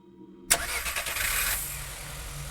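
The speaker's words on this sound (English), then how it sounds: "The sound of a car starting is coming from outside the door." A car engine cranks and catches outside a door in the horror game Firework: a sudden loud start out of silence, then a steady running rumble that slowly settles.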